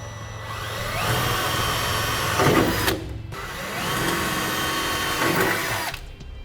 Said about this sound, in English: So we'll drill a pilot hole right through the center.